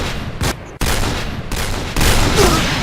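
Gunfire in the online shooter Point Blank comes as loud, close bursts of rapid shots, a brief gap breaking the barrage before the shooting resumes.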